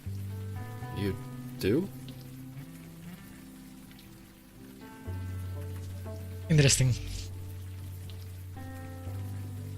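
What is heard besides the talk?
rain falling in the video game Unavowed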